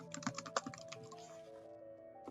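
Close-up typing on a computer keyboard, a fast run of light clicks that thins out and stops, with a faint steady hum underneath.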